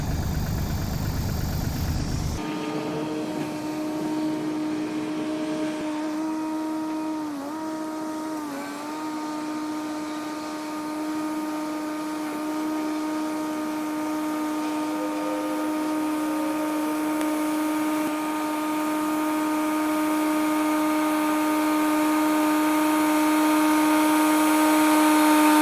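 An engine-powered weeding machine runs in a cherry orchard, giving a steady, loud mechanical drone with a constant pitch that slowly swells over time, after a brief noisy burst at the start.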